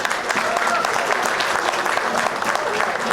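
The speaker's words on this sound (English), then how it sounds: "Can we have a loud round of applause for her?" Loud, dense applause from an audience at a book launch for the novel Gone with a Bullet, sustained clapping of many hands at an even level throughout.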